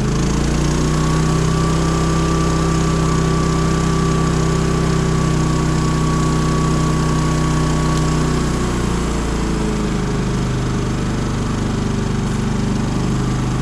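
A propane generator runs steadily in economy mode at low RPM, a loud, close, continuous engine drone with a faint whine that shifts slightly partway through, and no talking.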